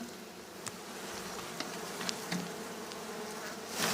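Honey bees from a wild swarm at a honey house buzz steadily and close, a dense continuous hum with individual insects darting past now and then.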